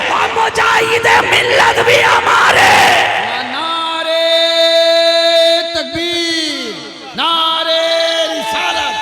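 A large crowd at an Eid Milad-un-Nabi gathering roars back a loud, unified shouted response to the Takbir call for a few seconds, then a single amplified voice carries on chanting alone in a sustained, melodic line.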